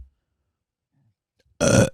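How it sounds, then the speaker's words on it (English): A single loud, close human burp bursts out after near silence, lasting about a third of a second, with no speech around it. "Have a peer review that fucking burp"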